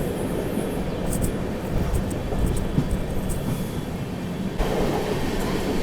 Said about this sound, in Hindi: अभी हम लोग स्किप करने जा रहे हैं घाटकोपर रेलवे स्टेशन